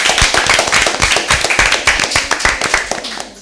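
A quiz show audience breaks into loud, close clapping for Team A, a fast uneven burst of many hands that fades slightly at the end.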